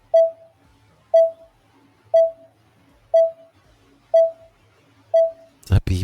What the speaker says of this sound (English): The beeping.